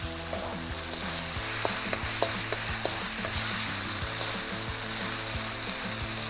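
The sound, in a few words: miso chicken stir-frying in a pan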